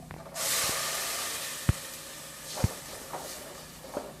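Grated coconut hits a hot pan of browned shallots for a Kerala kunjipathal dish and bursts into a loud, steady sizzle that holds throughout, broken by a few sharp utensil clinks.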